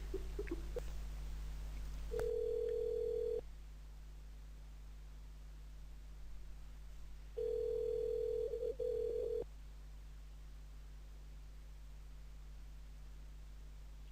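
A telephone call rings out over a quiet line with a low steady hum, giving two long ringback tones a few seconds apart and no voice answering.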